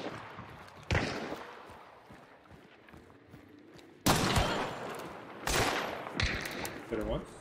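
Gunfire in a zombie-fighting video game: several sharp bursts of shots break out at intervals, loud and close, over a steady background din with faint voices.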